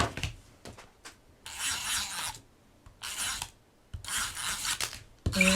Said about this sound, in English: Then I'm going to take my tape runner.